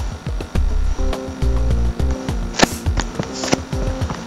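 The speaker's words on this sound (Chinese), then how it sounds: "打开夹子， 打开夹子。" Bluetooth-controlled robotic arm working its gripper, with short whirring servo motor bursts and small mechanical clicks and clacks, close and fairly quiet, in several separate pulses.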